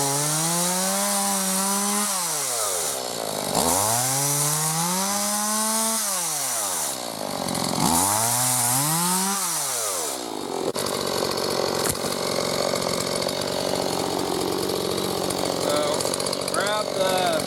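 Chainsaw cutting through cedar branches held with a log-grabbing accessory, three loud revving cuts with rising and falling pitch, then idling and rustling wood handling close by.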